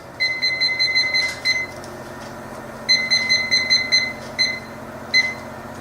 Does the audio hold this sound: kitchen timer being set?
yes